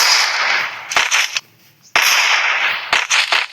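Groza assault rifle fire in the battle royale game Free Fire Max, loud bursts of rapid sharp shots with a short pause in the middle, then more shooting and a few separate cracks near the end.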